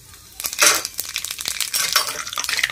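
Dried red chillies, bay leaves and whole cumin frying in hot oil, a close crackling sizzle with sharp spits and stirring scrapes that builds after a quiet start.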